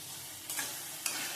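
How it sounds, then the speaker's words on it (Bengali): Okra frying in a pan with turmeric, salt and sugar gives a faint, steady sizzle, with two brief scraping stirs. "ঢ্যাঁড়সটা ভাজা হয়ে গেছে,"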